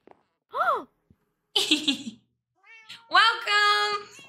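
A cat in Minecraft meows several times, each short and distinct with gaps between them. The last cry is longer and drawn out, and the meows ring out close and clear against silence.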